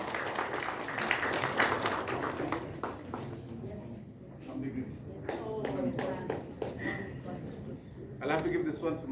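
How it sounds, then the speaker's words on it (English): Scattered audience clapping at a Dalade CMYC gathering, moderate and uneven, mixed with a speaker's amplified talk over a PA and swelling again near the end. "Round of applause,"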